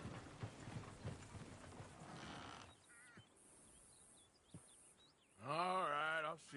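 Horse hooves clip-clopping in Red Dead Redemption 2, a steady series of soft, moderately close steps under ambient game sound, with a brief loud horse-like cry near the end.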